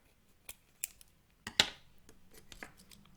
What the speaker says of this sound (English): trim the excess fabric